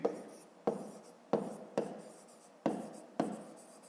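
Pen strokes on paper while working a fifth-grade maths exercise: six short scratching bursts, each starting sharply and trailing off, spaced under a second apart and close up, with no talking.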